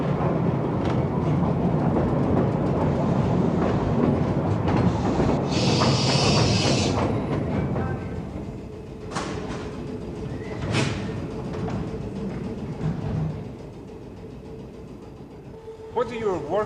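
A 1970s Glasgow Underground train rumbles steadily with a broad low roar and hiss, voices talking over it, and a brief higher screech partway through.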